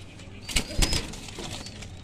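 Pigeons in a loft, a few soft coos and rustling wing sounds close by, in short bursts over a low background hum.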